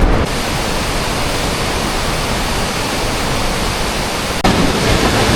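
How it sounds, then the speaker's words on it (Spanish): A swollen jungle river in Peru rushing with great force, a loud, dense, continuous roar of churning water that fills the whole clip with no voices. "El río va extremadamente cargado y con mucha fuerza."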